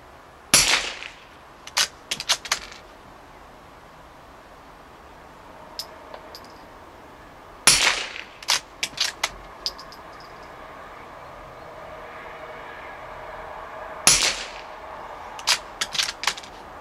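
.22 LR rifle shots at an outdoor 25-metre range: three sharp, loud cracks spaced several seconds apart, each followed by a few quieter clicks of the bolt being worked, over faint background hiss.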